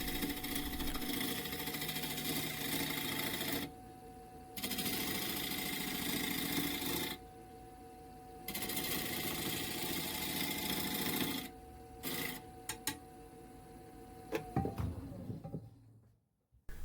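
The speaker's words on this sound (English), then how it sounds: "Here I'm using a 1/4 inch spindle gouge to refine the hole into an inward curve to match the silver" A lathe hums and whines steadily while a 1/4 inch spindle gouge shapes the inside of a wooden ring, cutting in several sustained bursts with short breaks between them before the machine spins down to quiet.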